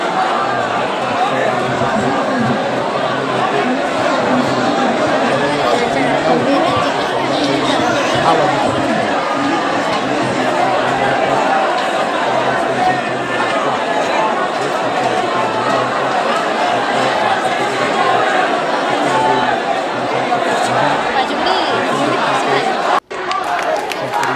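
A huge protest crowd packs the Badlapur railway station and its blocked tracks, a dense, continuous roar of many voices chattering and shouting at steady loudness throughout, with a brief dropout near the end.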